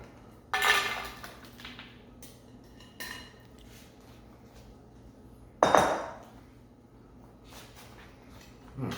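Food clattering back into a skillet in a home kitchen, two distinct loud metallic clanks with smaller clinks and scrapes between them, close by with no voices.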